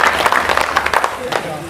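An audience at a comedy poetry gathering in Maharashtra breaks into applause, a short burst of crowd clapping with talk running underneath.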